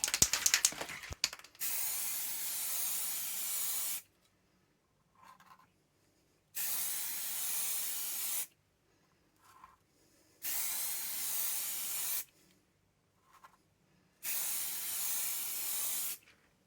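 A can rattles briefly, then primer is sprayed onto laser-cut brickwork in four separate hissing bursts of about two seconds each, with near-silent pauses between them. The sound is close and loud, and no one speaks.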